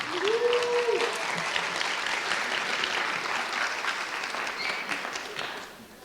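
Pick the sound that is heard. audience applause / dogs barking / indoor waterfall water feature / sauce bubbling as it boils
audience applause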